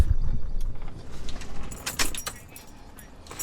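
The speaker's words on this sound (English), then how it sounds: "turn vehicle key off" A key is turned off in the ignition of a Ford 6.0 Powerstroke truck: a close, brief metallic jangle of keys with a faint cabin hum underneath.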